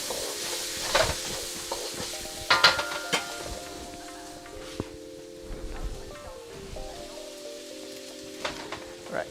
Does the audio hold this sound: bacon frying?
yes